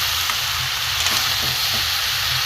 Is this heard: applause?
no